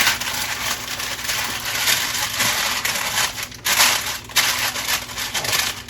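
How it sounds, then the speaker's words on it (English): Parchment paper crinkles and crushes as it is pressed into a pan for lining, a close, continuous rustling and crackling with bursts of louder crumpling. "I'm going to take the pan and I'm going to line it with parchment paper"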